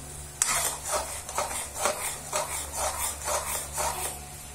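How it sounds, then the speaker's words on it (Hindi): Egg fry curry (half-boiled eggs, no onion) being stirred steadily in a pan, a rhythmic series of scraping strokes roughly every half second, close and moderately loud over a steady low hum. "लगातार हिलाते रहें आप"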